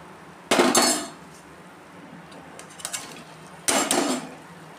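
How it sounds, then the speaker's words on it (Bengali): Masala being stirred and sautéed in a pan for butter paneer, heard as two sharp metallic spatula clanks against the pan with softer scraping between them. "এখন ভালো করে নেড়ে এটাকে একটু কষিয়ে নিতে লাগবে।"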